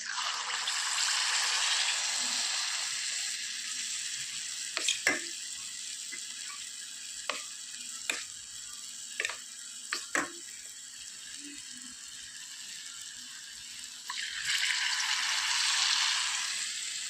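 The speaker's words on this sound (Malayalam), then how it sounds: "മാവിലേക്ക് മുക്കി ഒരൊളിച്ചുള്ള ചക്കയും എടുത്ത് ഫ്രൈ ചെയ്തെടുക്കുക." Battered ripe jackfruit pieces fry in a small amount of oil with a steady sizzle, broken by several sharp clinks and taps in the middle, and the sizzle swells again near the end.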